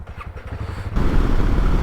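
Motorcycle engine droning steadily on an empty road during a long ride from Nepal toward India, a continuous close rumble that grows louder and rougher partway through, with wind noise and no talking.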